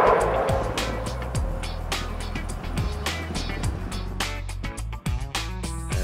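A vehicle runs through an electronic stability control test, its engine and tires producing a continuous rumble with scattered knocks and thumps as it moves through the course.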